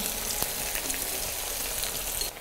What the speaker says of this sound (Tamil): இப்போ இதை நம்ம எல்லாத்தையும் ஆயிலில் போட்டோம் இது ஃபுல்லாக ஃப்ரை ஆகணும்